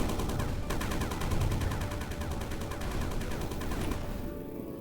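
Rapid gunfire from a weapon used to mine sand in the video game Sandustry, a dense continuous burst of repeated shots running loud throughout with no voice over it.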